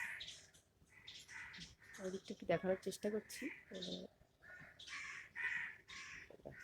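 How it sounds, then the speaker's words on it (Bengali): Birds, including crows, call outside under a cloudy sky, their caws coming in a few close, repeated bursts. Someone talks quietly in the middle. "পাখিগুলো কি সুন্দর ডাকছে দেখো"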